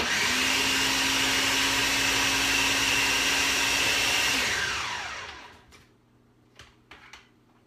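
A blender whirs loudly and steadily as it mixes chocolate chip banana muffin batter, then winds down and stops, followed by a few faint clicks and knocks.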